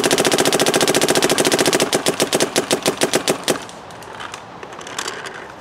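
A Dye M3+ paintball marker fires on semi-auto without hitting anything, a rapid, even string of loud sharp pops that slows into separate shots and then stops, leaving faint background noise.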